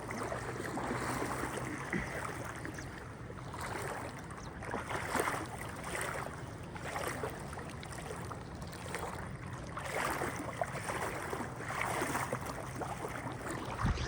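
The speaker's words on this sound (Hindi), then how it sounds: "उधर देख रहे हो उस जगह पे सामने तेज़ पानी आ गया है" Steady, rushing floodwater roars continuously at Taunsa, a broad turbulent wash that stays loud throughout with no break.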